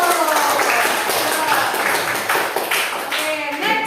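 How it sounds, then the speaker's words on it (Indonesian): Classroom applause for the first student group, a rough burst of many hands clapping that fills the whole moment with dense, uneven claps and faint voices mixed underneath. "Kita tepuk tangan untuk kelompok satu dulu"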